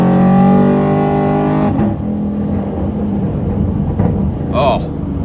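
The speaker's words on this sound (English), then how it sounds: "Oh, that backfires pretty good." A tuned and cammed Chevy Camaro SS with an 8-speed gearbox pulls hard as a strong, loud engine drone rises. The throttle then drops off into rough rumbling with a few sharp backfire pops. Voices talk briefly inside the car.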